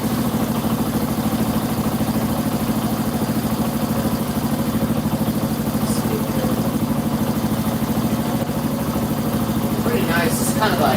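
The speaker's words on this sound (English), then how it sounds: "It's kind of like a old Honda style motor. Vertical. Vertical, single cylinder." An old Honda-style vertical single-cylinder scooter engine idles steadily, a continuous close mechanical putter with even rhythm throughout, with brief faint higher sounds near the end.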